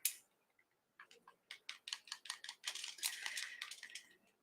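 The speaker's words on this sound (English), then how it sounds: "Mix that up." Paint being stirred in a cup for fluid art, heard as a quick run of light, regular ticking scrapes and taps that speed up and blur into a continuous clatter, close and fairly loud, with no talking.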